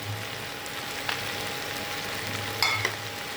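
Broccoli, beans, peas, sweetcorn and tomato sizzle steadily in a pan, a soft continuous frying hiss with a few faint stirring clicks and knocks.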